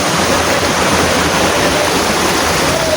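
Rushing river water pours steadily and loudly throughout, a dense, constant roar close by with no pauses and no talking over it.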